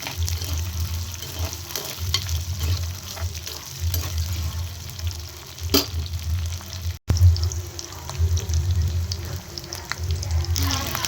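Big onions sautéing in a pan with curry leaves for a Tenkasi-style brinjal thokku: a steady, close sizzle with scraping stirs throughout and a brief break midway.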